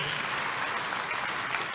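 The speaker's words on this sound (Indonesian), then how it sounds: "Kasih tepuk tangan yuk buat Tuhan Yesus." A church congregation applauds during a Sunday sermon, a dense, steady wash of many hands clapping together at moderate loudness with no talk over it.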